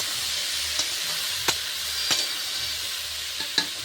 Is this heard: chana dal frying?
yes